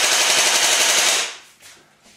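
Fully automatic gunfire sounds as one rapid, loud burst of closely spaced shots lasting about a second, then cuts off abruptly into quieter fading echoes and faint noise.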